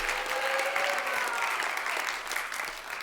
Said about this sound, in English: a big round of applause for Rasika and Govinda, who collected every single rupee, pound, dollar to put this festival on.